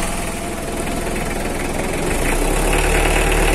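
A 2005 Mitsubishi L300 diesel engine idles close by with a steady, loud, rumbling chug and a rattling knock that holds for several seconds.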